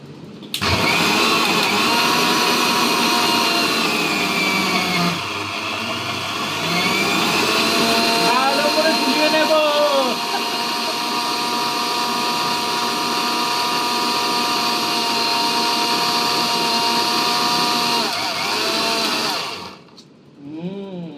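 A blender whirs steadily for about twenty seconds, blending lassi from yogurt and sugar, with a brief dip in the motor noise near the five-second mark before it winds down at the end.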